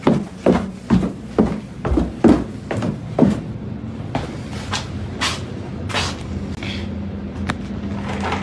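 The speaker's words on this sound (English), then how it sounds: "What's jiggling that 200-year-old door handle?" An old, 200-year-old door handle jiggles and rattles in a quick series of sharp metallic clicks, then continues as scattered, softer knocks with pauses between them.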